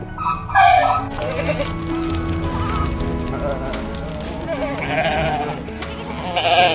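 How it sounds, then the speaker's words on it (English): A sheep bleats in short wavering cries, loud and near, among other farm animal sounds, with a voice speaking over part of it. "sheep,"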